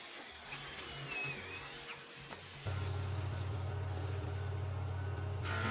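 A power drill whirs steadily through wood drilling pocket holes with a jig at close range, starting abruptly partway in and running loud and continuous to the end.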